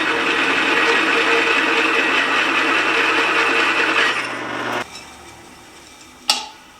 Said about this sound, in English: I'm going to countersink them with a 1/2-inch bit